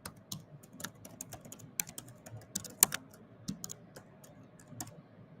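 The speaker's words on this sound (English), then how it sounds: "Let me just type it first." Fingers typing on a computer keyboard, quick uneven clusters of light clicks and a few sharper key strikes, close and fairly quiet against a low hum, with no talk.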